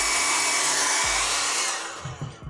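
A handheld hair dryer blows a steady, loud broadband rush close by, then is switched off and its airflow winds down and fades near the end.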